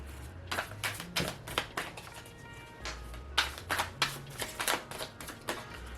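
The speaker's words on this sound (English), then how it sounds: "Try just to overhand shuffle these and not bend them because I bent one already." Laminated tarot cards are overhand shuffled in quick, faint, repeated riffling bursts, close and quiet, with no talk.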